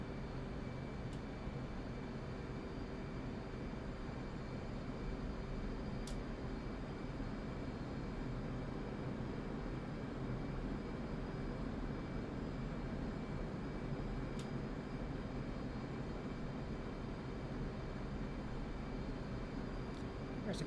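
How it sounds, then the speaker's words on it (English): Twin F/A-18C Hornet jet engines spooling up under increased throttle in the DCS World flight simulator, a steady, dense broadband roar that holds at an even level throughout. "On this turn, increasing throttles, and now we can make our turn."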